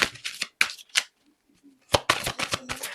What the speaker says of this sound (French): Alors je les bats vite, hein, mais c'est parce qu'en fait j'aime quand les cartes sautent